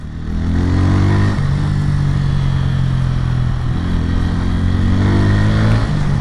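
A Bajaj Pulsar N150 motorcycle engine revs loudly and close by at high RPM, a steady roaring drone with pitch that dips and climbs again as the throttle changes, heard alone without talk.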